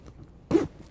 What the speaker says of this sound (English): That'll zip it shut around the mast.